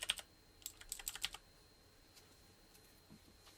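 Clicky mechanical keyboard switches are pressed in a quick burst of sharp, close clicks, roughly a dozen keystrokes in the first second and a half, followed by near silence with a few faint ticks.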